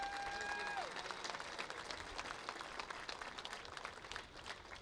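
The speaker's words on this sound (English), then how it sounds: "Let's give them a big round of applause." A crowd at an outdoor ribbon-cutting ceremony on Fulton Street applauds with steady, fairly faint clapping that carries on for several seconds and tapers slightly at the end.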